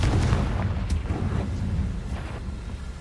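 Confringo blasting spell going off in Hogwarts Legacy: a loud, rumbling explosion at the start that decays into a dense, roaring wash of battle noise, with a few softer cracks following.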